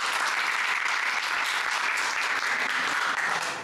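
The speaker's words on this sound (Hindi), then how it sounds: "आप हौसला अफजाई के लिए ना तालियाँ भी बजा दिया करें।" A live audience at a Pakistan Independence Day quiz show bursts into dense, steady clapping that fills the whole stretch at an even, loud level with no talking over it.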